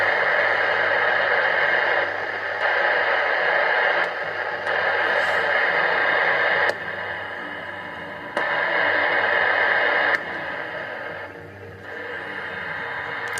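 A March 2003 Galaxy DX66v radio, its noise blanker switched on, puts out a steady hiss and static that shifts in level in blocks as reception changes, with faint clicks and no talking.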